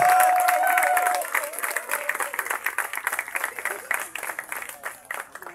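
At a tribute gathering for former seminary teachers in Benin, an audience breaks into applause, clapping building under a lingering voice at first, then continuing alone as a brisk, uneven patter that gradually thins.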